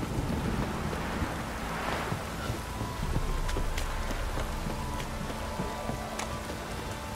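Rain pours steadily in a storm in The Witcher 3, a constant wash of hiss and patter with faint distant rumbles beneath, no voices over it.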